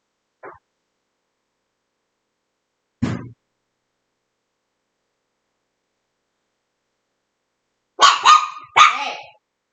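A dog gives a few sharp, isolated barks with long silences between, then a quick cluster of louder barks near the end.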